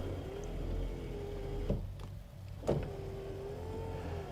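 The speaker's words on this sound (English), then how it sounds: "Another interesting feature is the rear window operation." A 1969 Cadillac Eldorado's electric rear window motor hums steadily, pauses with a couple of clunks, then whirs again as the glass retracts, close by and without talk.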